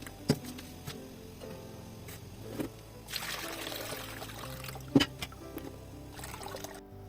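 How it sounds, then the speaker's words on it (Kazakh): Tomato juice strained through a sieve and poured off for salted canned juice: a soft, faint trickle and splash, with a brief, fuller pouring rush in the middle and a few sharp clinks. "сүзгіштен өткізіп, суын алатын боламыз"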